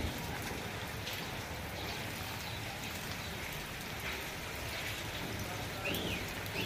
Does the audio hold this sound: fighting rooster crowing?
no